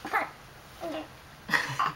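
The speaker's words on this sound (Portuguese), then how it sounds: "Tosse pra mamãe" A child coughs once, softly and close by, followed by a brief pause and then two more short coughs or throat-clearing sounds, all fairly quiet.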